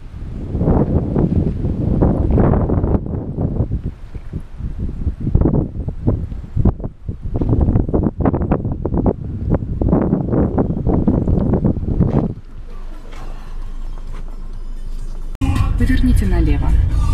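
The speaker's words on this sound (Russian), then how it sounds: "Блин, ветрище, конечно." Strong wind buffets the microphone outdoors on a road in Crimea, with loud, gusty roaring bursts, then quieter stretches and steadier noise toward the end, while someone talks.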